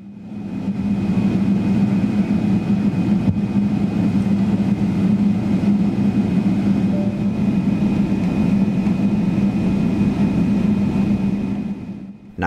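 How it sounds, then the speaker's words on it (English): Inside the cabin of an Air Canada Boeing 777-300ER lining up on the runway at Pearson Airport, the engines give a steady, loud droning hum with a constant tonal whine. No one speaks. "as we line up on runway 23, ready to power away from Pearson Airport"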